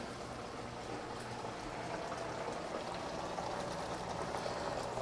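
A shrimp dish boils and bubbles in a pot with a soft, steady hiss and fizz. The sound is faint and continuous, with no voices.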